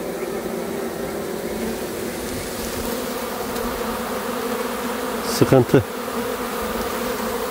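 Italian honey bees buzz around beehives in a steady, dense hum that continues throughout, with a brief burst of a voice or nearby sound just past the middle.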